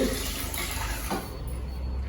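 Water poured onto unwashed rice and lentils in a bowl, a steady splashing fill lasting about two seconds with no talk over it.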